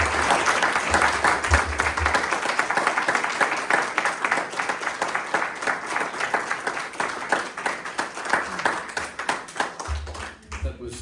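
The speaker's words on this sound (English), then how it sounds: "A round of applause for all four of our readers tonight" An audience at a poetry reading applauds its four readers with a dense, sustained burst of clapping that stays loud and close, easing slightly near the end.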